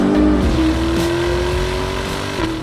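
A 2020 BMW X6 M50i with launch control accelerating, its engine note holding a steady rising drone, loud and close throughout the short burst with no talk.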